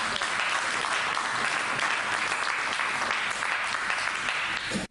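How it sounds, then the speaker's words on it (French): A church congregation claps together in a dense, steady wash of applause that holds evenly for about five seconds before cutting off abruptly. "Est-ce qu'on peut applaudir pour la parole de Dieu?"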